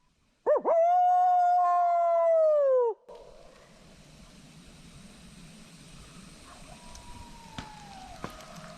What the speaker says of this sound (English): Can y'all hear those coyotes howling?